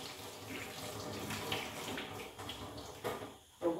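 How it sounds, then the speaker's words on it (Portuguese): Water runs from a tap into a bowl holding chicken to be soaked with vinegar, a steady close splashing stream for several seconds that briefly cuts out near the end. "colocar um pouco de água, vinagre, e vamos deixar de molho"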